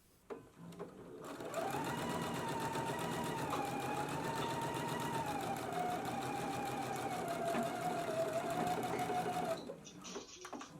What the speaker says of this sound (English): stitching this one at a 3/8 of an inch seam allowance